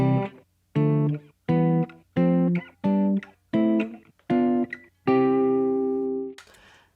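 A series of sustained chords played one after another, each stepping up in turn, with a final longer chord ringing out.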